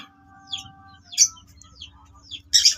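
Breeder lovebirds, a Blue Dilute Opaline and a Green Opaline, chirp in their cage in short bright bursts of tweets, over a steady low mechanical hum and a faint tonal whine.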